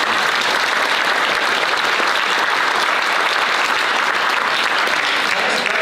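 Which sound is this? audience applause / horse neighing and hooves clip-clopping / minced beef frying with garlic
audience applause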